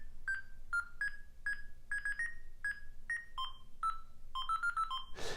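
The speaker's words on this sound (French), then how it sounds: "Ça c'est la mélodie de Bouygues Télécom." Bouygues Télécom ringtone melody played on a Siemens S45 mobile phone: a sequence of short, clear electronic tones in a rhythmic tune, fairly close and alone, ending with a brief burst of noise.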